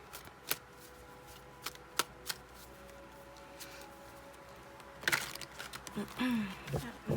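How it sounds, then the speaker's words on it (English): Tarot cards are shuffled by hand, with several crisp riffling snaps spaced apart, then a longer, busier burst of shuffling near the end. "Shuffling on camera, guys."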